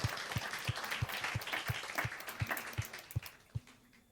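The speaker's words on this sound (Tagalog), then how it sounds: "sige nga po, palakpak po muli sa Panginoon" A church congregation claps in praise during a Sunday gospel service, a steady rhythmic beat of hands about three per second, with looser scattered applause around it that thins and fades toward the end.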